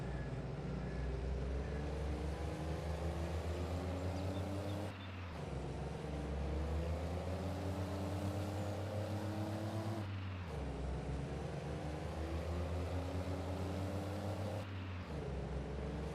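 Mack truck engine in Farming Simulator 22, a steady deep diesel drone with low rumbling harmonics, briefly dipping about every five seconds as if shifting, continuous and close with no talking.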